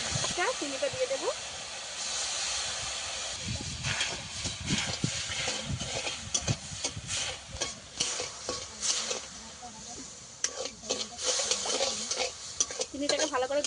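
Sugar and water being stirred in a wok to melt: soft scraping and sloshing strokes with a faint sizzle, close and irregular, while someone talks over it.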